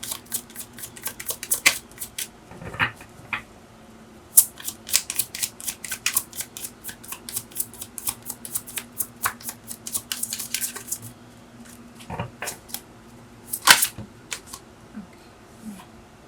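Tarot cards being shuffled and handled for a reading, a quiet stream of crisp papery flicks and riffles with a few sharper snaps and taps, close and alone without speech.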